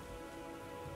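Steady rain in a swamp in the video game Elden Ring patters continuously, a soft broadband hiss of drops with no voices, faint and even throughout the short moment.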